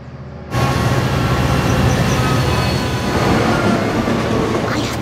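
A cartoon train rumbles in abruptly and loudly, with a steady roar and rattling wheels that continue without a break.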